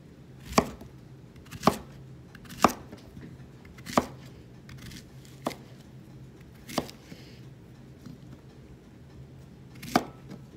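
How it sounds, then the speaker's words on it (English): Knife slicing squash and zucchini into rings on a cutting board, a series of crisp, evenly spaced chops close by, about eight strikes over a faint steady background hum, no talking. "And then I'm just gonna slice them into rings as well."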